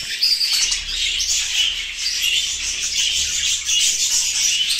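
A flock of budgerigars chirps in a busy, continuous chatter up close, with soft rustling and wing flutters mixed in.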